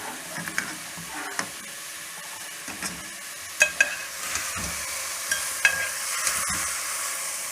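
Potato halwa being stirred and roasted in a pan over medium heat, a steady sizzle and frying hiss with repeated scraping strokes of the spoon and occasional sharp clinks, close and alone without talk.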